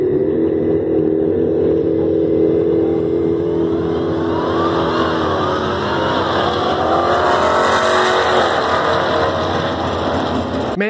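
Supercharged Pontiac Fiero drag racing a modern big black Mopar, a loud sustained engine roar that climbs in pitch through the gears as it accelerates hard down the track, close and dominant throughout.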